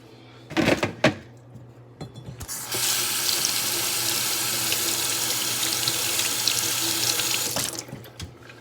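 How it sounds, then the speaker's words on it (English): A sink tap runs while hands are rinsed, a steady close rush of water lasting about five seconds, preceded by a couple of sharp knocks and clanks and ending abruptly as the flow is shut off. "Rinsing my hands off before I deal with my camera"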